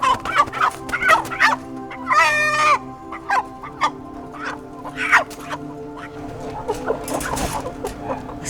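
Chickens squawk and cluck in sharp irregular bursts, one long drawn-out cry standing out early, loud and close, over a low steady background hum.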